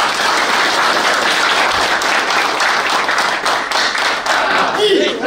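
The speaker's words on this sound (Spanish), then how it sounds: "Un fuerte aplauso, hermano" A crowd at a road contract award event near Huaraz applauds loudly and continuously, dense clapping that stays strong until a voice begins to cut in at the very end.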